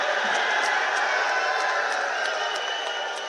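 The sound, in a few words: crowd clapping at political rally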